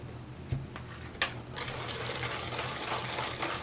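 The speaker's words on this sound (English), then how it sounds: "we're going to whisk this up really good" Batter with vanilla extract whisked in a bowl, giving a continuous scraping, swishing churn with a couple of sharper clinks against the bowl, close and steady throughout.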